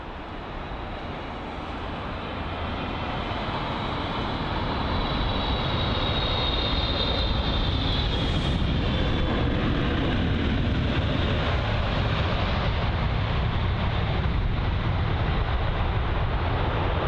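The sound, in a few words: Singapore Airlines aircraft 9V-SWZ landing at London Heathrow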